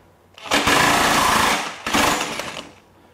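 A Durofix 60V brushless 1-inch impact wrench runs in reverse, two loud close bursts of rapid hammering rattle, a longer one followed by a shorter one after a brief pause.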